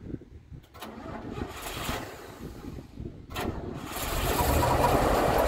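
A GMC 4000 fire truck engine cranks and catches, brief starter bursts giving way to a rising, rumbling idle that grows louder toward the end, heard fairly close.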